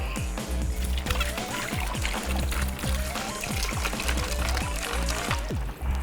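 Vodka glugs from a bottle into a big batch of jungle juice punch, a steady rushing pour with rhythmic glugging gurgles, fairly quiet and continuous, with no talk.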